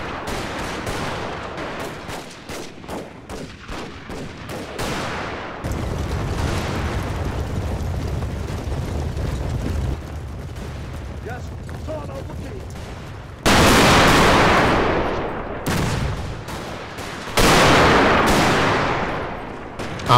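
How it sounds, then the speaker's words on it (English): Gunfire and artillery in a Total War battle video game depicting British riflemen, Gatling guns and cannon against Zulu warriors, with dense crackling volleys and rapid bursts, then heavy booming blasts swelling loud and near. "After half an hour of concentrated fire from the artillery, the Gatling guns, and thousands of British riflemen"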